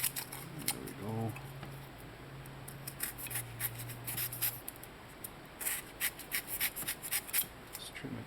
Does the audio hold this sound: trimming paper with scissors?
yes